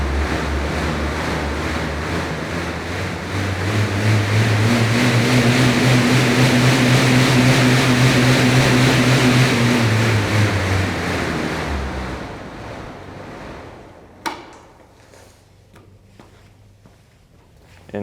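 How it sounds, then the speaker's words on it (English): A residential air bike's fan whooshes as it is pedaled, a loud roaring rush of air with a low humming drone that builds steadily and then winds down. A sharp clunk follows as it settles quiet. "first I'm gonna jump on the residential air bike so you can hear and see that in action."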